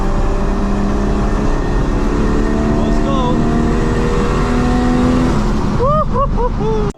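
An Audi S3 drives along, heard from inside the car as a loud, steady engine and road drone that cuts off abruptly at the end, with brief voice sounds near the close.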